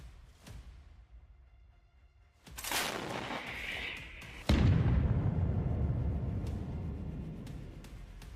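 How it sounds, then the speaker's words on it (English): Ukrainian artillery shells strike near retreating Russian vehicles: a distant thump, then a loud blast with a roaring rumble, and a second heavy detonation that leaves a long, low rolling roar. "Ukrainian artillery was prepared to strike Russian vehicles as soon as they start leaving"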